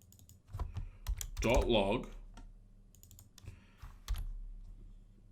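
Computer keyboard typing while code is written for Unity 2D top-down movement, with quick bursts of close clicky keystrokes separated by short pauses and a brief stretch of voice in the middle.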